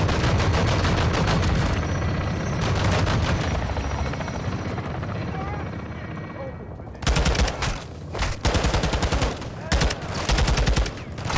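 Gunfire in the Modern Warfare 2 campaign, dense bursts of automatic fire and loud blasts over a constant helicopter rotor roar, with a quieter stretch midway before heavy firing resumes near and loud.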